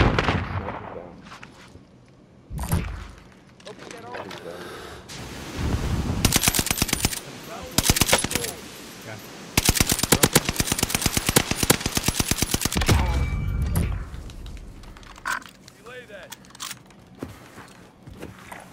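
Call of Duty: Warzone battle gunfire, loud close bursts of rapid automatic fire in long rattling strings, with heavy single booms and distant shots between, continuing with little pause.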